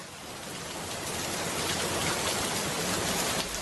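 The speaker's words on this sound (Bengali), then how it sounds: "বাইরে আবার বৃষ্টি শুরু হয়েছে।" Rain falling outside, a dense steady hiss of drops that swells slightly and holds constant throughout, with no voices.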